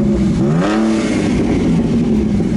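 A Ford Mustang pulls away nearby, its engine revving up with a rising, rumbling tone before settling into a steady, loud drone as it drives off.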